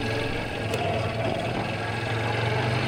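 Vehicle engine running while its wheels slip in deep sand in Rakab forest, Purulia, a steady low idling drone with rumbling vibration, close and continuous without talk.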